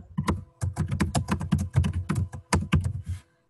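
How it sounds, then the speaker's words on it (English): Rapid, close clacking of a computer keyboard during an online meeting, a steady burst of typing with one short pause before it stops. "Who's typing?"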